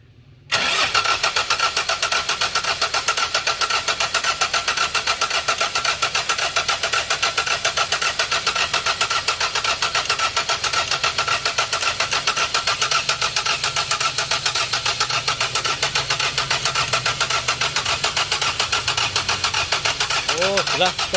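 A car engine catches after a brief crank and settles into a loud, steady idle that runs unbroken for about twenty seconds, with people talking over it.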